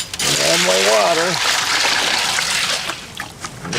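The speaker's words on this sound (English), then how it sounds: "Add my water." Water pours into a cement and fiberglass mix for masonry steps, a loud, steady splashing rush that tapers into trickles and sloshing, with a brief voice at the start.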